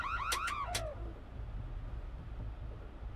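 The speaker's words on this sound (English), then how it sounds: "Someone set the alarm off." A few short rising-and-falling electronic alarm tones sound within the first second during the Nancy Drew: Secrets Can Kill video game, then cut off, leaving a low steady background rumble.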